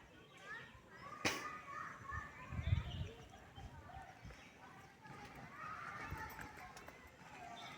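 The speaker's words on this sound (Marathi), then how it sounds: "शाळेतल्या विद्यार्थ्यांची शाळा भरायच्या आधीची जी सगळी गडबड गोंधळ असतो" Schoolchildren's noisy chatter and shouting near a village school before classes begin, a busy outdoor murmur of many young voices with occasional louder shouts and thumps throughout.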